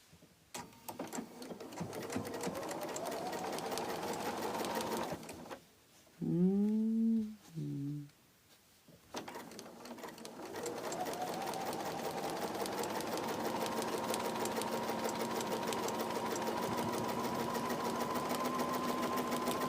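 A freshly oiled sewing machine runs with a steady whirring drone, stops for a few seconds while a cat meows, then starts up again and hums on evenly.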